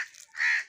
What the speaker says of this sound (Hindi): अब मुझे पता चला कि यही था कौवा।